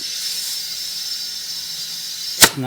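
A continuous thin hiss of air leaking past a plug in a zero-turn mower tire, close and steady, interrupted near the end by a brief thump of handling.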